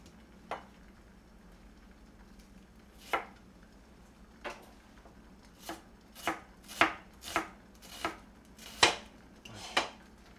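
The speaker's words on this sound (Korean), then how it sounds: "양파 썰 때는 좀 조심하세요" Knife strokes chop through an onion on a cutting board, sparse at first then a quicker run of about a dozen crisp, close thuds with no talking.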